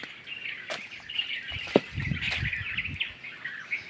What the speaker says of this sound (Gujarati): ઝાડ જ છે ઝાડ અને ચેકલાનો જ અવાજ આવે આખાઈમાંથી